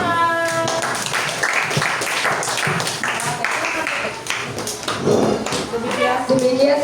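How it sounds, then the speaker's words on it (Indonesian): Scattered hand claps and light taps from a small group of sixth-grade schoolchildren after a class presentation, uneven and sparse, mixed with chatter and voices throughout. "Tepuk tangan."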